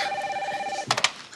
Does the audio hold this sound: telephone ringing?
yes